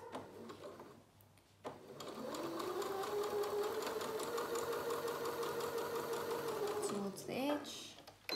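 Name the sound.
sewing machine stitching fabric bucket lining with back tack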